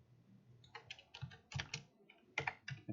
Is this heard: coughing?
no